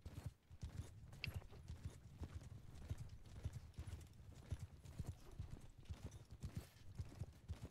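Horse hooves clip-clop in a rapid, irregular rhythm during a video game battle, fairly quiet, with faint background game noise.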